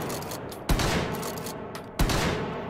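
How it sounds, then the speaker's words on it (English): Shotgun blasts in the H3VR virtual reality game, with sharp loud reports in quick succession, each followed by a ringing roar that fills the gaps. "Four shots."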